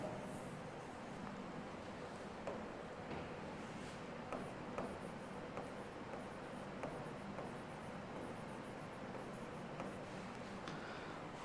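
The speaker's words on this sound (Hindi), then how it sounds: "मैं नीचे लिख देता हूं।" Pen or marker strokes on a surface while writing notes during a tax lesson, a faint, steady scratching with soft repeated taps, low and close, with no talking.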